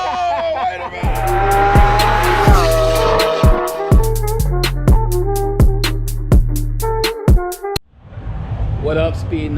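A race car at a drag meet revs hard in repeated sharp bursts, its engine barking and popping close up with loud rhythmic crackles, then cutting out briefly before the revving returns, while voices are faintly heard.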